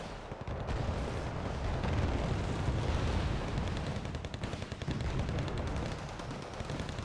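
Tank cannon fire and battle noise from the war strategy game Wargame Red Dragon, a dense continuous rumble of distant gunshots and explosions played fairly quietly, with no voices.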